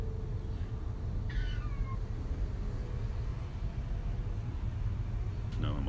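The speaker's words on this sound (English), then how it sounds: "my apologies if I've been distracted by this cat in the background" A cat in the background gives a couple of faint meows over steady low room noise and hum, with a sharper chirp near the end.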